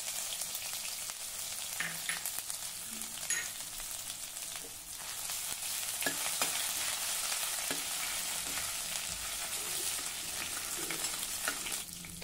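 Crushed ginger and garlic frying in hot oil with mustard seeds and cumin, a soft steady sizzle with occasional sharp pops and stirring scrapes, fairly quiet and without speech.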